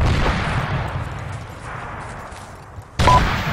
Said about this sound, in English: Mortars are hitting that.